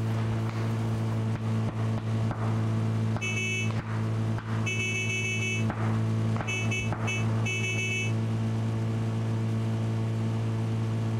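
Vehicle engine in the PUBG video game, a steady loud drone of a car driving through a town, with bursts of higher-pitched tones and distant gunfire popping over it.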